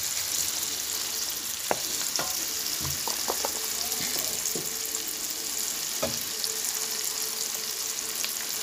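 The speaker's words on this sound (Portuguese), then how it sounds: "a cebola e o pimentão fritando, né, na manteiga" Onion and bell pepper frying in butter in a pan, a soft continuous sizzle with a few clicks and scrapes of stirring, close and at moderate volume.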